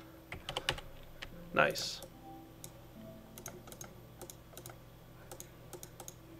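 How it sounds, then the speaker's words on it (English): Code being typed on a computer keyboard: quick, uneven runs of light key clicks close by, with one louder burst of keystrokes and a short spoken word partway through. "I am typing code for it"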